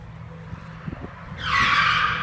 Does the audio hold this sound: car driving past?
yes